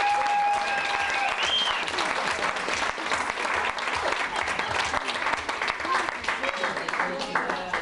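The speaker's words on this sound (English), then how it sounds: "Maybe a round of applause for my mum," Guests at a wedding party in an ex-servicemen's club applaud, a dense sustained round of clapping with cheers and chatter mixed in throughout.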